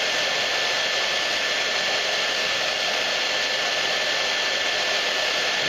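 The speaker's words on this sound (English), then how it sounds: "I'm heating this thin area so it'll get where I need to go" A hair dryer runs at a constant, loud, close-up whoosh while warming a thin resin part of a 1/35 scale Mirage model, an even airflow roar with a faint steady whine and no speech.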